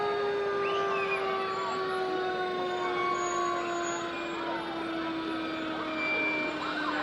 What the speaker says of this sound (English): following the chief are the trucks from the Cordele Fire Department,